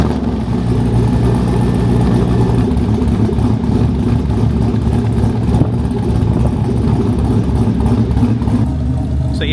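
A Ford Lightning pickup swapped to a 5.3 V8 with a stage 2 cam and Borla exhaust idles steadily and loud, with a lumpy low rumble and no talk.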